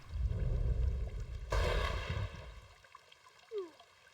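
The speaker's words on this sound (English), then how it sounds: "That was not the kind of explosion I like. It was a bolt of lightning that hit the park." A lightning bolt strikes in the game Blue Archive, a sudden loud crack of thunder bursting over a steady rushing storm backdrop, then fading into quieter rumble.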